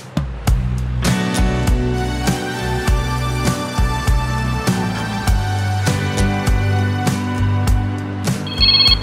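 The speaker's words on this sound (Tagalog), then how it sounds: "Ada umawawag iti cellphone ko." A cellphone rings with an incoming call, its repeating tonal ringtone loud and close, layered over a busy musical bed during an Ilocano drama scene, with no talk over it.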